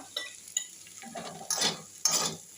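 Seeded banana is mixed with salt by hand, giving soft wet squelching and stirring sounds in a few short bursts, close and fairly quiet, with no talking.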